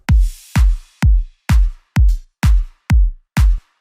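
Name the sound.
drum loop from an old project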